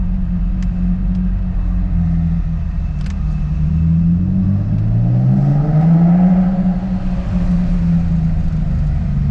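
A modified Infiniti G35 engine rumbles loudly, then revs up and down through a rising, sweeping whine around 4,000 RPM before settling back into a deep idle, close by with no talking.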